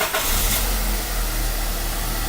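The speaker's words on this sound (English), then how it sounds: "So right on this time we're going to start the vehicle, run it at idle." A vehicle engine starts and settles into a loud, steady idle, with a deep continuous rumble close by throughout and no talking.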